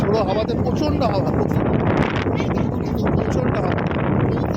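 Strong stormy wind buffets the microphone at Mandermoni sea beach, a loud continuous roar with gusting rumble throughout, with a voice talking over it.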